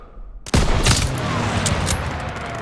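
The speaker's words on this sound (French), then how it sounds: "Ouvre le feu." Gunfire in Call of Duty WW2 erupts suddenly after a quiet moment, a loud, dense burst of overlapping rifle and machine-gun shots with booming reports and continuous rattling, close and intense.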